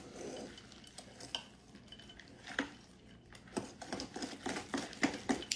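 Large pecan pieces are stirred into chocolate fudge pie filling, a spoon clinking and scraping against the bowl in quick, quiet, irregular strokes that grow busier toward the end; nobody speaks.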